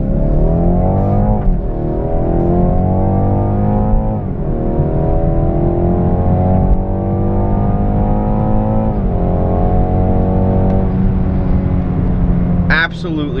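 BMW 430i Gran Coupe with ZF 8-speed automatic accelerating hard, loud in-cabin engine drone climbing steadily in pitch through several gears, with brief dips at each upshift and someone talking over it.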